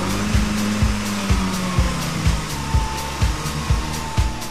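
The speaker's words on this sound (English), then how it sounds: "Rev up the engine a few times to blow out accumulated moisture and carbon." A car engine runs during carbon cleaning with oxyhydrogen gas fed through the vacuum line, giving a loud, steady whirring drone broken by regular rhythmic surges about twice a second, with no voices.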